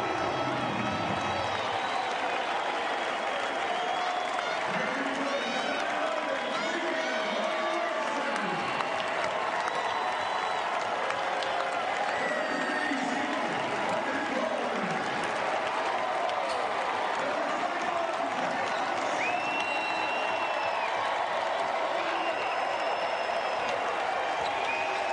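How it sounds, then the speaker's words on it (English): Senior Day crowd at a Charleston versus Stony Brook college basketball game, a steady roar of cheering and applause filling the arena throughout, with whistles and scattered shouts rising above the din. "Listen to the crowd, folks,"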